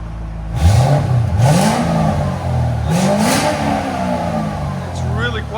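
A 2006 Ford Mustang GT with a 4.6L V8 and Valvetronic Designs mufflers revs in a few short rising and falling pulls, with a close, fairly subdued exhaust tone.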